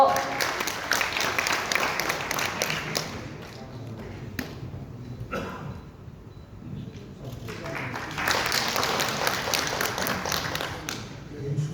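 In a hotel grand ballroom at a forum's founding ceremony, the audience applauds to welcome a council chairman's congratulatory speech: a loud burst of many hands, a quieter lull, then a second strong swell.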